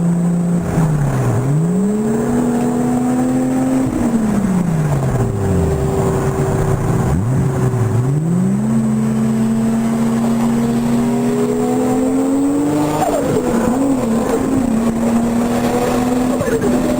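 Two Lamborghini Murcielago cars roar nearby in a loud, continuous engine drone, with repeated revs rising and falling through gear changes and a high whine running over the top.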